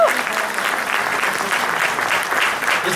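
Sustained audience applause at a Hindi kavi sammelan poetry gathering, a dense even wash of many hands clapping, steady and fairly loud throughout.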